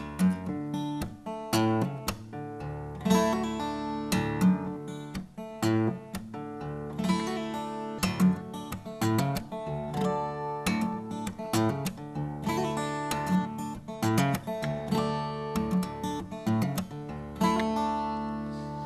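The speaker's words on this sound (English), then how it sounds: "you're going to do a hammer on and pull off" A plucked guitar riff plays alone, quick hammered and pulled notes ringing in a steady, busy rhythm over sustained low strings, moderately loud and close.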